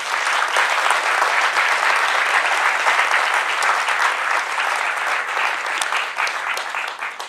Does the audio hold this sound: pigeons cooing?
no